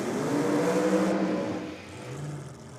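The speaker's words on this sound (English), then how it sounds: "he doesn't do much in the way of a burnout, does Randall. Doesn't need much. This is a stout little small block Chev on board here." A blown small-block Chevy race car revs hard in a short drag-strip burnout, a loud rising engine roar that fades and drops away within a few seconds, heard at a distance with no talk.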